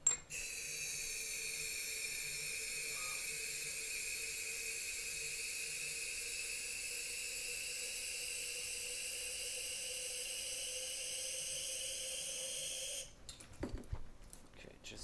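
A steady hiss of contact cleaner sprayed into a dispenser runs unbroken for about thirteen seconds at close range, then stops, leaving a few small clicks and handling noises.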